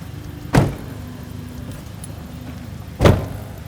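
Two heavy car doors thud shut a few seconds apart on a South Jakarta District Prosecutor's Office prison transport vehicle, heard close over a steady idling engine hum.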